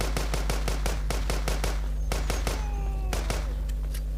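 Rapid bursts of shotgun fire in the zombie shooter game Walking Zombie 2, a quick string of sharp booming blasts, then a brief gap before more shots, over a steady low game hum.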